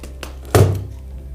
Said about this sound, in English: Let's open the keyboard.